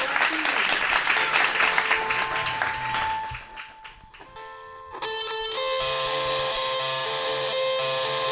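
An audience at a live show by the band claps and cheers, with dense applause for about three seconds that thins to scattered claps before sustained amplified band tones take over.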